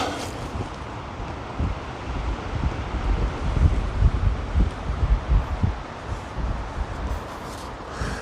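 Wind blows outdoors around a tripod, a steady rough buffeting rumble across the microphone with gusts swelling and easing throughout.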